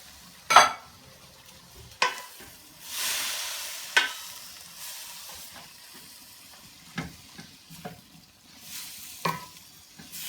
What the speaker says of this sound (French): Là, on remélange le tout. Et on va laisser cuire encore.